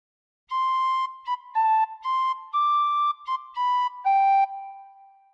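A tin whistle plays the slow folk melody All Through The Night, a series of clear sustained notes with short breaks between phrases, close and alone.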